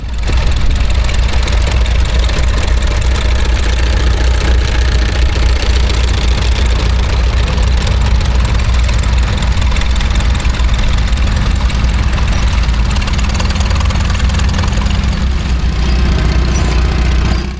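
A small 1937 Bristol 10 vintage tractor runs steadily in a field, its engine giving a loud, close, low throbbing idle with a constant rhythmic knock and no pause.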